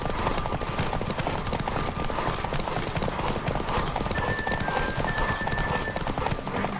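Fast hooves of a galloping horse in The Witcher 3 horse race, an unbroken driving rhythm up close, with a thin high tone surfacing near the end.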